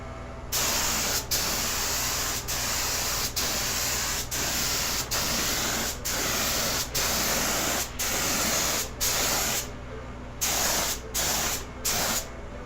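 Spray gun laying a second primer coat onto an MDF panel, a run of about a dozen loud hissing bursts, each a second or so long, separated by short clean gaps.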